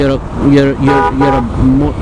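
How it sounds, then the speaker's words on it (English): Several car horns honk in busy road traffic, giving repeated short and sustained blasts that overlap one another at close range and fairly high volume. "Come on, stop honking."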